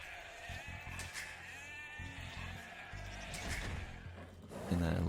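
Sheep in Age of Empires II bleating, several distinct wavering bleats spread across the clip over soft game ambience and clicks, fairly close and clear.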